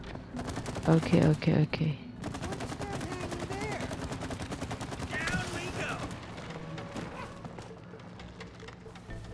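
Gunfire at a target in the co-op video game It Takes Two, a rapid burst of loud shots early on, then continuing game noise with a voice talking over it.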